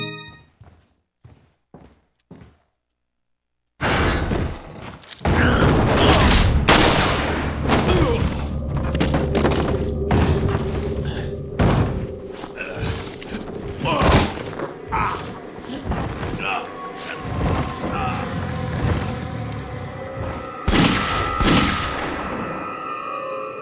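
Rapid gunfire bursts from the Resident Evil 4 video game, loud and repeated with booming impacts, following a few short isolated knocks, with talk faintly in the mix.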